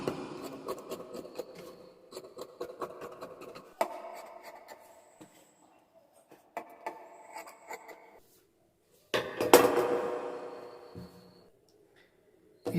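Scissors snip through the side of blouse fabric in a run of crisp, close cuts, with short gaps and a louder rustling burst of cloth handling near the end.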